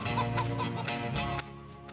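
Chicken clucking in the retro Wild West shooter game Outlaws, a run of short repeated clucks over a busy game soundtrack, with no speech.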